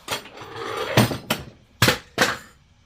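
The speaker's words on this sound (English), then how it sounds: "Drop another thing." Objects dropped onto a workshop table beside a Harbor Freight arbor press setup, landing in several sharp, loud metallic clattering impacts, one early and three more spaced across the second half.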